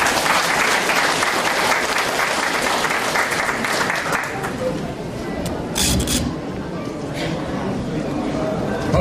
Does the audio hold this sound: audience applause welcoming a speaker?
yes